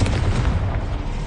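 A Confringo blasting spell explodes in Hogwarts Legacy: one loud, low, rumbling blast that fills the moment and then slowly fades.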